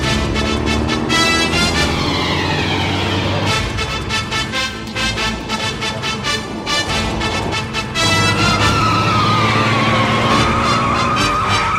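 A car is driven fast in a Ravi Teja action film scene: a loud, continuous engine roar with squealing, skidding tires throughout.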